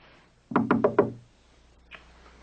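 Four firm, evenly spaced knocks sound on a door nearby, followed after a pause by a faint single tap.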